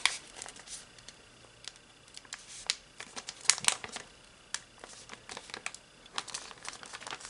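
Paper is creased and folded by hand for origami, producing close, quiet crinkles, scrapes and sharp crisp snaps in irregular bursts.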